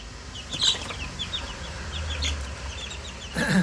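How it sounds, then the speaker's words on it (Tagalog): Young chickens about 25 days old cheep and cluck in short, scattered calls, with a brief burst of wing flapping and shuffling near the end. "Ayan ang ating mga sisiw"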